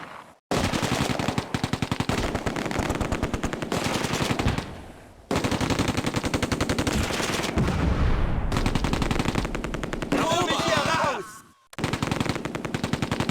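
Automatic gunfire in the WWII strategy game Close Combat: A Bridge Too Far, loud, dense bursts of rapid machine-gun fire that run for several seconds at a time with short silent breaks between volleys.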